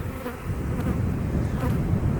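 Honeybees in an open hive drone in a steady, dense buzz during an inspection, a close, continuous hum with slight swells and no talking.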